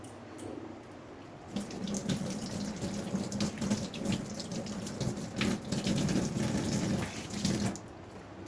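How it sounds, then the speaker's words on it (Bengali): Tap water runs steadily into a kitchen sink while a snake gourd is rinsed under it, a close, continuous splashing stream with slight shifts as the vegetable moves through the flow. "তাহলে আমরা চিচিঙ্গাটাকে ধুয়ে কেটে নিই চলুন"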